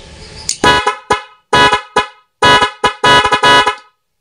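A car's stock horn and an added dual horn honk loudly and close in a string of about eight blasts of varying length, some short toots and some held, with brief gaps between them and no talking.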